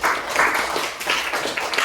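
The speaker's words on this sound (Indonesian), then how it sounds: "Tepuk tangan dulu buat Nabi." A classroom of pupils claps briefly for a classmate, a short burst of scattered, moderately loud hand claps in uneven clusters with no talking over it.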